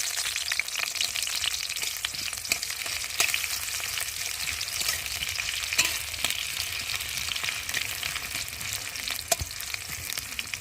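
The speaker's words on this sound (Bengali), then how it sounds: "এখন আমি পেঁয়াজ দিয়ে একটু ভালো করে ভেজে নেব" Onions frying in oil in a wok after dried chillies were fried, a steady close hiss and crackle with faint stirring scrapes throughout, no talking.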